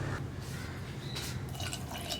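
Water being poured into a pressure cooker holding chickpeas for a no-coconut kadala curry, a steady close trickle and dripping pour lasting throughout with no talking.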